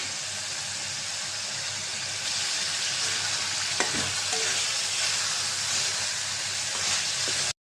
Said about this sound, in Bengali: মশলাটা অর্ধেক কষানো হয়েছে মাংসটা দিয়ে দিলাম মাংসটা দিয়ে কষাই নেবে